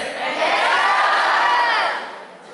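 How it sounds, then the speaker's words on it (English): A school audience of boys at a birth anniversary event for Subhash Chandra Bose shouts together in a loud, sustained collective cheer that fades after about two seconds. "Only boys are shouting."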